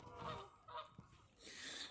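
Geese honk in a park in Sutton Coldfield: a few short, nasal calls in quick succession, fairly faint and somewhat distant, with nothing else competing.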